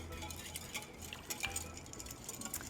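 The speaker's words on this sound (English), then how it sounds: "So you're going to mix this until the sugar is melted." A sugar mixture for coconut almond bread pudding being whisked in a bowl, soft, quick scraping and light clinks of utensil against dish, fairly faint and continuous.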